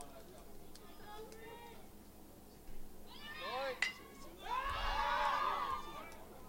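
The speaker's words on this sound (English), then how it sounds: "you can hear Quebec kind of just shouting" Softball players yelling from the dugout during a U21 invitational game between Quebec and Ontario, heard as bursts of raised voices in the second half over steady background chatter.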